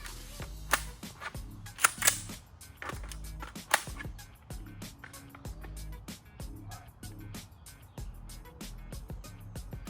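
An MK18 rifle fitted with a Riflespeed gas control on setting 2 fires a series of sharp shots, several loud and close with quieter ones among them, followed by a run of rapid, regular clicks.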